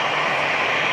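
An EasyJet jet rolling for takeoff at Manchester Airport, heard as a brief burst of steady, whining jet engine roar at close to moderate distance.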